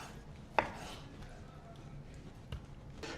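A kitchen knife roughly chops peeled grapefruit on a cutting board, one sharp thunk early followed by a few softer, scattered knocks, close but fairly quiet, with faint voice in the background.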